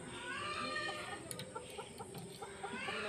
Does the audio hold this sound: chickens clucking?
yes